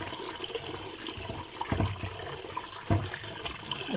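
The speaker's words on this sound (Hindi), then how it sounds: "इसके बाद हम इसे अच्छी तरह वॉश करेंगे, आलू के ऊपर कोई मिट्टी ना रहे।" Cut potatoes are rinsed and swished in water, soft splashing and sloshing close by with a couple of louder splashes.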